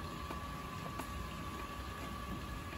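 A fermenter's cooling system runs as cooling water is fed around the boiler, giving a steady, continuous mechanical hum with a faint tonal whine and no talk.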